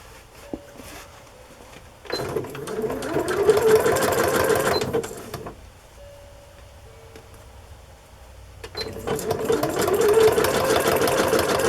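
Sewing machine stitching a zigzag stitch for a large Christmas journal craft project, two close bursts of rapid mechanical whirring and ticking separated by a quiet pause.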